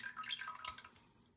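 Water drips and trickles from a toilet tank draining after a flush, with small, close, irregular drops and a faint wet trickle that fades toward the end.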